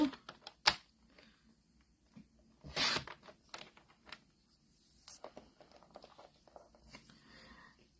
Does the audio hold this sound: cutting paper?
yes